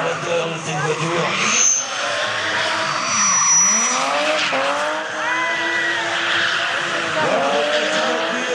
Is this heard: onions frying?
no